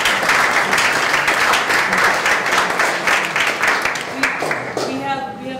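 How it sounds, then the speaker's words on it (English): A neighborhood crowd at a North End Chamber of Commerce gathering in Boston gives a loud, dense round of applause that carries steadily and fades near the end, with some voices mixed in. "give yourself a round of applause"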